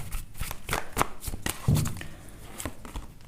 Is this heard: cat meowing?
no